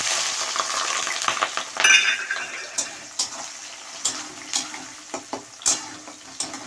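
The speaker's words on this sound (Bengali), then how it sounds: "ঘি দিয়েছি, গরম হয়ে গেছে। এই যে পেঁয়াজ দিয়েছি" Sliced onion sizzles in hot ghee in a home kitchen pan, with a hissing fry at first that gives way to a series of sharp, separate stirring scrapes and clinks.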